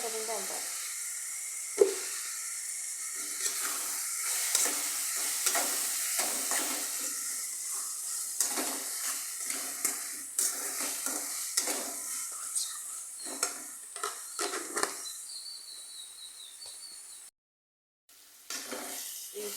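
Spices sizzle and crackle as they fry in hot oil, with continuous hissing punctuated by frequent scraping stirs of a utensil against the pan, close and steady throughout.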